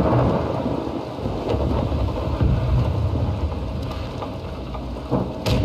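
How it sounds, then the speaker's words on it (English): A fierce thunderstorm in the pirate ship game BlackWake: steady heavy rain with rolling thunder rumbles, loud and continuous, with no voices. "Aye, the storm is fierce."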